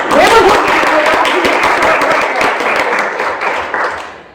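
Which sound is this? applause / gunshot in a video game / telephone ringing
applause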